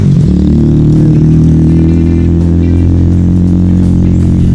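A motorcycle engine labours and revs loudly while climbing a steep uphill road near Kampo Heneral, Calawis, its close, continuous drone and throaty roar filling the whole stretch without pause.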